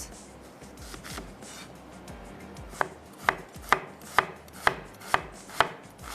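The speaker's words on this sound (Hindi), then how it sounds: "और मैं नाइफ ले लेती हूँ और प्याज को चॉप कर लेते हैं।" A medium-sized onion is chopped with a knife in a kitchen, first with soft scattered cuts, then with a crisp, even series of about eight sharp knocks on the board, close and alone.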